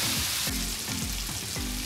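Chicken cooks in a pan with tomato, green chili and ginger, giving a soft, steady sizzle broken by rhythmic pulsing knocks roughly every half second.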